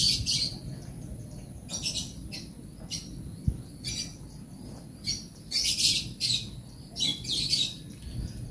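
Racing pigeons at a derby race loft give short repeated chirps and squawks in scattered bursts, faint and fairly near over a soft low background hum.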